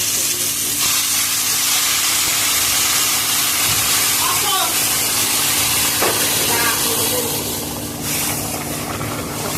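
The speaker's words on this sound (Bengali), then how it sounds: "এখন আমি গরম জল দিয়ে দেবো।" Hot water poured into frying taro (kochu) curry for a fish and taro dish, a loud steady sizzle and hiss that persists throughout with faint clinks of stirring.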